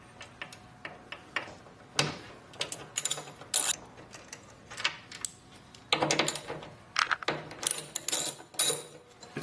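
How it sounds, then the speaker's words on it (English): A ratchet loosens the three 10mm bolts holding a stock side mirror on a pickup truck. Quick clicking bursts sound close up in irregular runs, with no talking. "there are these 3 10mm bolts that you need to remove to get the stock mirror"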